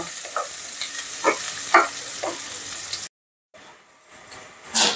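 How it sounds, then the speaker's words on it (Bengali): Chopped onions frying in a pan, a steady close sizzle with occasional stirring scrapes and a brief dropout near the middle, then louder stirring at the end, no voices. "পেঁয়াজ কুচি দিয়ে একটু ভেজে নেব"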